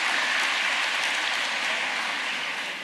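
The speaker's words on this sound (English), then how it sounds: "So please give yourselves a round of applause." Dense, sustained applause from a crowd at a funeral service, a steady wash of clapping like heavy rain that carries on without a break, with no talk over it.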